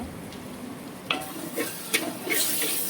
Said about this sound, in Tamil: மஞ்சத்தூள் போட்டு நல்லா வணங்கணும்.